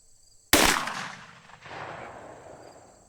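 A single loud .44 Magnum gunshot firing a 240-grain XTP round at an outdoor range: one sharp close crack followed by a long rolling echo that fades over a few seconds, no talking.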